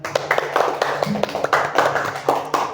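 A classroom of students claps their hands together for about three seconds in a dense, steady burst of applause, close and fairly loud.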